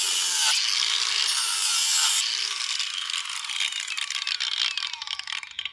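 A cordless 18V angle grinder cuts through material with a loud, high, continuous whine close by that dips slightly and grows rougher as the cut goes on, with no talking.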